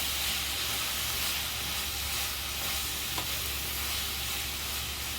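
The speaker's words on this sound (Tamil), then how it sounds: "கொஞ்சம் நல்லா இதை வதக்கிட்டு இதோட பச்சை வாசனை போகிறதுக்கு விட்டுடலாம்" Vadacurry masala sautéing in a pan gives a steady, soft sizzle and hiss that continues evenly throughout, close by, with no talking.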